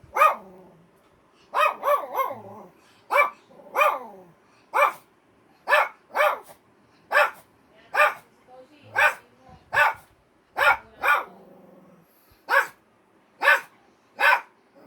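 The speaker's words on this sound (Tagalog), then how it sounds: "Ito yung aso namin na inaaway ako." A dog barks repeatedly at close range, sharp single and double barks in an irregular rhythm over about fifteen seconds, with quiet gaps between.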